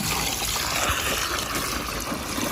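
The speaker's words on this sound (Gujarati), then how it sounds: "પાણી વેળાય છે પંપમાં." Water runs steadily into a farm water pump, a continuous broad rushing and trickling close by, with no talk.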